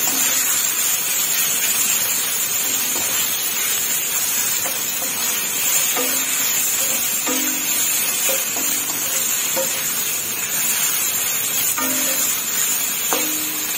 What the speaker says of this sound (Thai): ก็เลยจะมาผัดเลยค่ะ